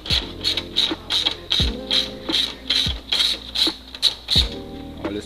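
Ratchet clicking steadily as screws are removed on a Honda hybrid during a spark plug replacement, rapid rhythmic pawl clicks close up with occasional low thunks between strokes.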